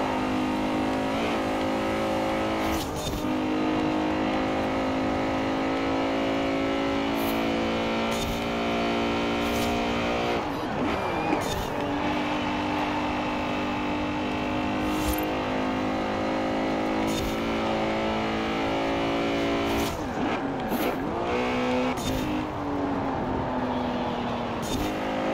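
An old Ferrari is driven in Forza Horizon 4, its loud engine note heard from the cockpit revving and shifting continuously, with sharp gear changes and rising and falling revs throughout.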